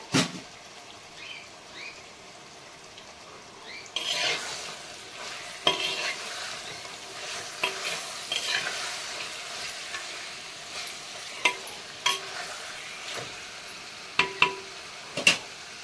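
Marinated chicken sizzling steadily in a hot pan with mint, periodically stirred, with sharp scrapes and clinks of the spoon against the pan punctuating the frying, close up and without talk.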